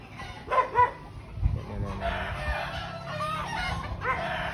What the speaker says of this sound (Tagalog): so yung mga manok